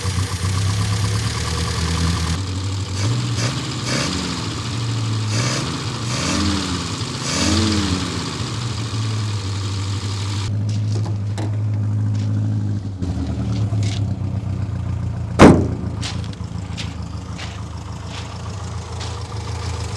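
A 1972 Austin van engine idles steadily and close by, with a few light revs swelling and easing early on, then a settled low running drone and a sharp clunk near the end.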